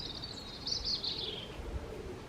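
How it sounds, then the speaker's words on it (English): A blackbird sings near a greenhouse, a faint, distant, high warbling phrase lasting about a second and a half over a quiet background. "You can hear that blackbird"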